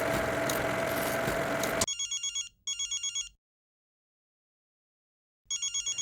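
A telephone rings in short electronic bursts, two rings, a pause of silence, then another ring, following a brief stretch of other noise.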